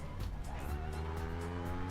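Race car engine in a sim racing game, a steady loud harmonic drone with tyre squeal and skidding noise running throughout.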